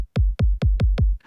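Five punchy, deep resynthesized kick drum hits in a steady, even rhythm, each with a clean attack and a round booming low tail, followed by a faint trailing noise.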